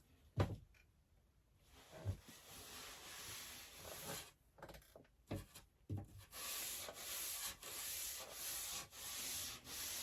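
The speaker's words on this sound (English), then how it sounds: "I'm going to give it just a little scuffing up" A scuff pad rubs across the tung-oiled surface of a wooden storage chest, working against the grain first, in quiet irregular back-and-forth strokes with soft knocks, growing steadier and louder toward the end.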